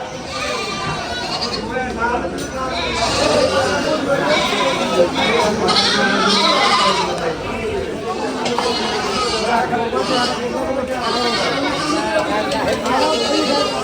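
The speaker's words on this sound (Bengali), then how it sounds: "বিভিন্ন জাতের ছাগল উঠছে" Goats bleat repeatedly amid a busy crowd, with people chattering all around in a lively outdoor goat market in Barishal, Bangladesh.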